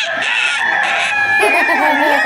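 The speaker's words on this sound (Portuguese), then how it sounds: "É o galo." A toy rooster plays a loud, close electronic cock-a-doodle-doo crow, one continuous call with clucking fowl tones, filling the whole short moment alone.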